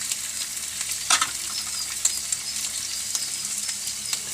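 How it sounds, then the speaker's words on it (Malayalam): Ginger and garlic sizzle in heated oil in a pan, the first step of a clam roast. A bright, steady hiss is heard close up, with scattered small pops and one louder crackle. "അതിലേക്ക് ഇഞ്ചി വെളുത്തുള്ളിയൊക്കെ ഇടുന്നു."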